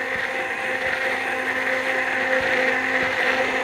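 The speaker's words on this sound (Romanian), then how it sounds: "O să rotesc blenderul ca să vedeți mai bine." An immersion blender whirs steadily at close range while emulsifying vegan mayonnaise in a tall cup, its motor a continuous, even drone with no pauses for the whole stretch.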